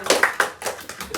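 Brief applause for a guest named Bilkis on an Indonesian comedy talk show, a few claps in a loose, uneven rhythm, close by and fairly loud, lasting just over a second.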